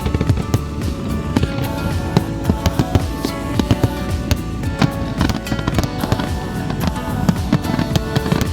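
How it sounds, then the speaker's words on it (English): Canada Day fireworks exploding over a harbour, heard from a boat close by, a dense barrage of sharp bangs and crackles with echoes off surrounding buildings, loud and continuous without speech. "You can get so close that you can literally feel the explosions, and you can hear them echoing off the buildings all around."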